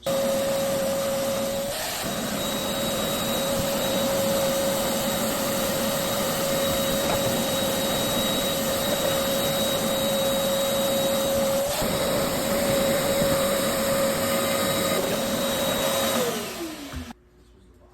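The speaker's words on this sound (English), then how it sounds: "So I'm gonna do old vacuum, and then I'm gonna hit them with the old vacuum brush." A vacuum cleaner whines steadily up close while cleaning out stacked Dexter dryers, its motor pitch dipping briefly twice, then it switches off and winds down near the end.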